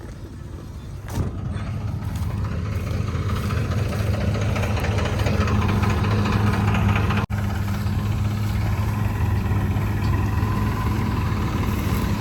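A tractor engine idles steadily and loud with a low rumbling throb, hauling a PTO-shaft-driven trolley during paddy work; a brief click breaks it midway and no one speaks.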